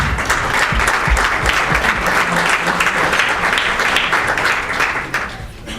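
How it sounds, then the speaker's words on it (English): Sustained, loud applause from a crowd fills the room at a volunteer fire company installation dinner and awards ceremony, steady throughout before tapering slightly at the end. "A big round of applause for you guys."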